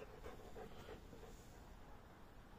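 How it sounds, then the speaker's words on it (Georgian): A yard guard dog pants faintly and rapidly, its quick breaths close but soft in an otherwise quiet space. "ეს არის მაგარი ძაღლი."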